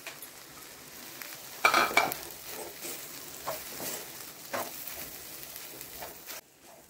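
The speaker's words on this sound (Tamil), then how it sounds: "இதை நல்லா கிண்டி விடணும்" Crumbled fish idiyappam is stirred in a frying pan, with quiet sizzling and intermittent scraping and clinking of a utensil against the pan, a louder burst early on, fairly faint overall.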